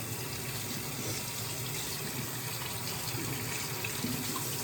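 Water runs steadily from a sink faucet as hands are wet under the stream, a continuous close broadband rush with no talk.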